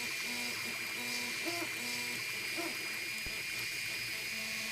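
Anet A8 3D printer printing a 20 mm cube's inner lattice, with stepper motors whining in short pitched tones that shift and repeat over a steady fan hiss, faint and continuous.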